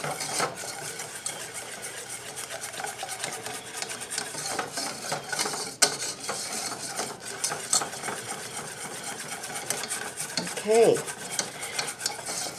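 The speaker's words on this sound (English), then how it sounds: "I'm going to grab a whisk and I'm going to start whisking this." A wire whisk stirs and scrapes through a liquidy buttercream cake glaze in a bowl, a steady close rasping swirl running throughout, with one short spoken word near the end.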